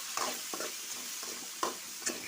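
Tomatoes and onions sautéing in oil for a Tamil-style brinjal curry, with soft sizzling and several light stirring scrapes in a steady, fairly quiet rhythm, no voices.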